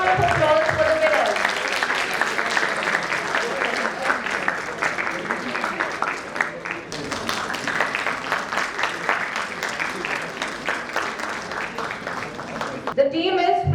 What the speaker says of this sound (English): A big round of applause for the winners.